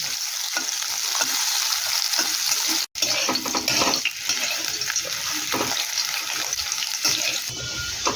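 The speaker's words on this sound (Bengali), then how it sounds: "আলু লাল লাল করে ভাজা হয়ে গেছে।" Potatoes frying in oil while being stirred, a busy crackling sizzle with repeated spatula scrapes, close and loud, with one brief cut in the sound near the middle.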